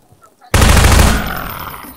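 Gunfire in the video game Half-Life 2 bursts in suddenly and loud after a brief quiet moment, a dense blast of rapid shots that rings out and fades over about a second and a half.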